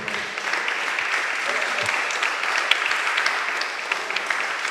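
An audience claps loudly and continuously for a trophy unveiling at the opening ceremony of a badminton tournament, with voices faintly mixed into the clapping.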